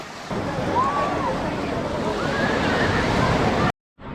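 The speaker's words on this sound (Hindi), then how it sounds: "कई लोग यहाँ पे समुद्र की खूबसूरत लहरें देखने और उनकी आवाज़ सुनने के लिए भी आते हैं" Sea waves washing onto Somnath beach, a steady broadband roar of surf that holds loud and continuous for several seconds before cutting off abruptly near the end.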